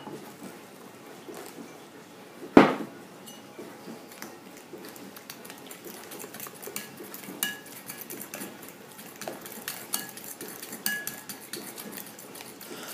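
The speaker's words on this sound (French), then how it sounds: "je vais le retirer du feu et le mélanger doucement à ma préparation" Hot milk is mixed into a pastry cream base in a bowl: a sharp metallic clank of a pot or utensil, then soft steady clinking and scraping of a whisk or spoon stirring close by, with no talk.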